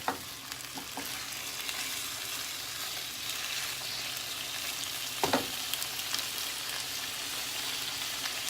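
Shrimp frying in a pan for garlic shrimp pasta, a steady close sizzle throughout with a couple of light scraping stirs.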